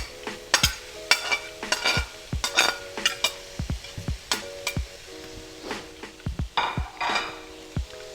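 Mushrooms sizzling in a pan while a utensil stirs them, a steady close fry broken by repeated sharp scraping and clinking strokes against the pan.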